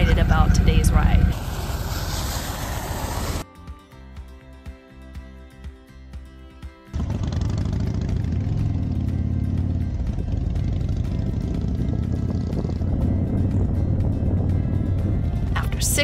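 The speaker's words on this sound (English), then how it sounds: "After 6 months, I am back on a motorcycle again." Motorcycle ride on the way to a Blessing of the Bikes event: a steady engine and road roar lasts most of the way, with a quieter stretch of music-like tones in between.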